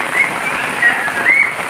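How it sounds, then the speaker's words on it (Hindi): Monsoon rain pours steadily while children bathe and play in it outdoors, a soft continuous hiss of falling water with faint high squeals or chirps breaking through now and then. "ये देखिए, बच्चे बारिश में नहा रहे हैं, खूब इंजॉय कर रहे हैं।"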